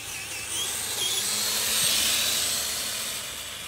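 Brushless motor of a Traxxas TRX-4 Toyota 4Runner RC crawler on a 3S LiPo, a sustained high whine that rises and falls slightly as the truck runs, fairly loud and steady with no speech.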